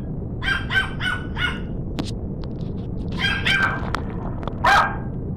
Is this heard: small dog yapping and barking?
yes